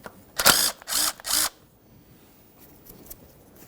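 A power tool or ratchet on a 2012-2018 Nissan Altima 2.5L engine, loosening 10mm bolts that hold ground wires, gives three short loud bursts in quick succession, followed by quiet workshop background.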